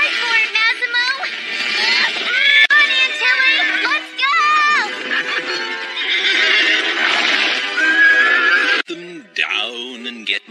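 A horse in an animated children's show neighs and whinnies repeatedly, loud and close, with clip-clop hoofbeats and music underneath and a final sharp whinny at the end.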